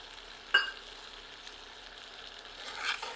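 Chopped tomato dropped into a pan of sizzling Uttarakhandi chicken curry masala: one sharp hiss at the moment it lands, then a soft, steady frying sizzle with a brief stir near the end.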